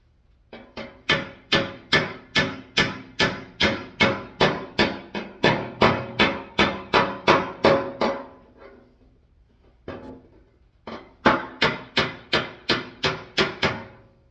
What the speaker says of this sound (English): I get that clinging sound that I really hammering the sheet metal between the dolly and the hammer.